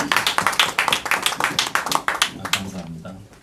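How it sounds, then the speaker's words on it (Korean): Audience clapping at a Korean presbytery elders' breakfast prayer meeting, a steady run of close, sharp hand claps for about two and a half seconds that then thins and fades out. "우리 박수"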